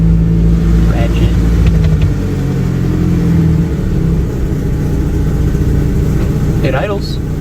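A 1996 Mitsubishi Eclipse project car's engine runs loud and close, a steady low rumble that holds throughout, with brief bursts of talk over it near the start and end.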